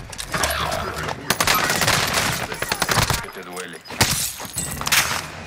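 Rapid automatic gunfire in the video game Call of Duty: Modern Warfare, dense bursts and volleys with loud sharp shots throughout, mixed with excited talk from players.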